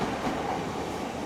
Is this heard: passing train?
yes